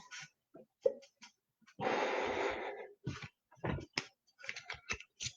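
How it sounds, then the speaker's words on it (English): Breathing through a restrictive training mask in a cave workshop, with a long heavy breath followed by short puffing, clicking breaths, close and fairly loud. "gotta wear this breathing mask to restrict my breathing for my ham-on training"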